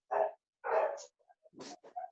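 A dog barks over an online class microphone: two loud sharp barks close together, then a run of shorter, softer yips and whimpers in quick succession.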